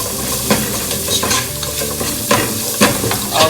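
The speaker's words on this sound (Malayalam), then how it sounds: "അതൊന്ന് ചേർത്ത് വഴറ്റാം" Spices for chicken paella are stirred and sautéed in a hot pan: a steady, close sizzle with repeated scraping strokes of the spoon every half second or so, with no voices.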